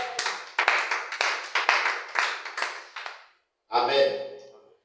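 A church congregation bursts into rhythmic, near clapping at a French-language worship service, with sharp hand claps in a steady beat for about three seconds, then a short pause before voices rise in a cheer.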